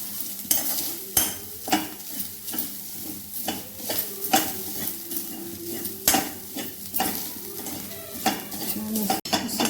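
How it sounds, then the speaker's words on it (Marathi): Grated coconut and dry fruit roasting in ghee in a pan, with repeated stirring scrapes and utensil clinks over a soft steady sizzle, close and fairly loud. "हा थोडासा भाजून घेते तुपामध्ये किस आणि ड्रायफ्रूट"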